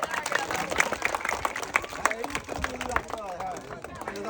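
An audience claps during a challenge of rolling balls along a coil into receivers, with scattered, uneven clapping mixed with excited voices and crowd chatter nearby.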